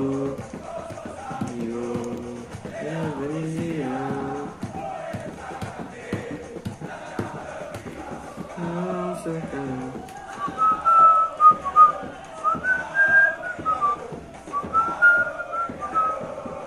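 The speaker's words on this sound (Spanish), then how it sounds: "Toda la tribuna cantando." Nacional football supporters chant and sing together outside the ground in Parque Central before a match, a distant massed crowd with whistles and rhythmic bursts of voices swelling louder toward the end.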